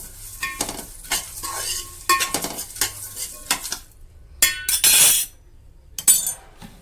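Peanuts and other laddu ingredients being stirred together in a pot with a spoon, giving bursts of scraping and clinking in uneven strokes, with a couple of louder clatters near the end and no voice.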